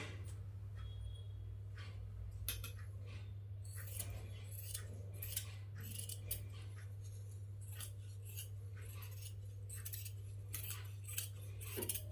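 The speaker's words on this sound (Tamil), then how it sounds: "இப்போ இதை வந்துட்டு கட் பண்ணி எடுத்துக்கலாம்" Scissors cutting the round neckline of blouse fabric, heard as a steady run of small crisp snips and clicks over a low constant hum, close and quiet with no talking.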